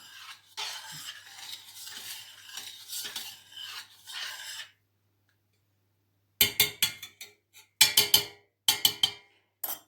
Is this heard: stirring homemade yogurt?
yes